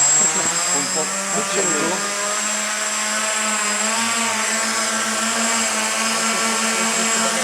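A radio-controlled model helicopter's rotors during takeoff and landing, producing a loud, steady, close motorized whine with a buzzing drone and a brief pitch wobble early on.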